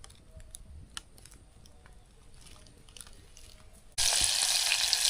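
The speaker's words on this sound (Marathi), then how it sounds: "आईने आता कढई तापवली, आता तेल वतून घेते." Cooking oil hits a hot kadai in a sudden loud hiss that starts abruptly and holds steady, following a stretch of quiet faint clinks and rustles in an outdoor riverside kitchen.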